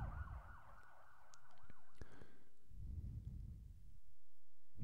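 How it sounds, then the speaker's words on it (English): A wailing siren in the video game Omori sweeps up and down, then cuts off abruptly, leaving low rumbling noise underneath. "Oh god, it's sirens again."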